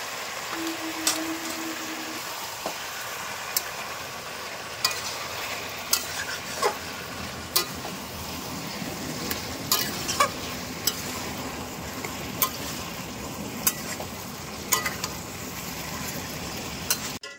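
Chicken braises with masala in a pan, Bihari dehati style: a constant sizzle broken by regular spoon clacks and scrapes against the pan as it is stirred, with no speech.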